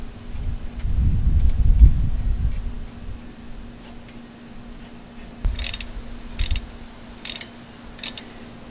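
Ratchet clicking as caliper bolts are tightened on the front brakes of an 02-05 Dodge Ram 1500, heard as a few short bursts of clicks in the second half after a low rumble, close and moderately loud.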